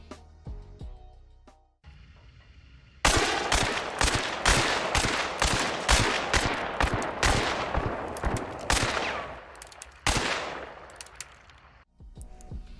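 Paired Caldwell Conversion pistols fire in Hunt Showdown as a long, fast run of sharp, loud gunshots close to the listener, with a brief pause partway through before the volley resumes and then stops.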